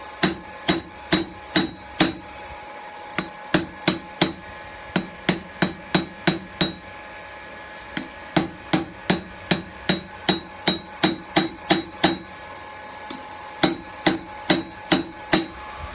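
Metal stock, 5mm thick, is hammered flat on a vise for a bottle opener, with a long run of evenly spaced ringing blows, loud and close, pausing briefly twice before resuming.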